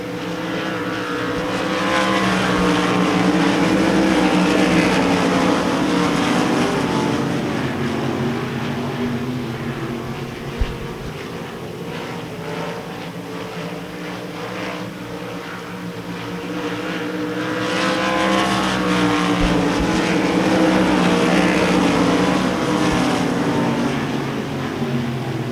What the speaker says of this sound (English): Casey Carter in the 33C running in 4th